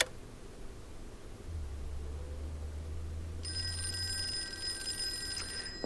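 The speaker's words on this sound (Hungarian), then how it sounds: "viszont a telefonunk elkezdett csöngeni." A telephone in the Call of Cthulhu video game starts ringing partway through, a shrill bright bell sounding over a low hum and quiet room noise, with no talk.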